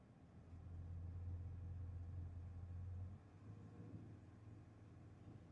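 Engine of a truck with a GDI engine idling in a shop, a low steady rumble that holds for a few seconds, then drops and shifts as the engine speed is commanded through a scan tool, faint and without talk.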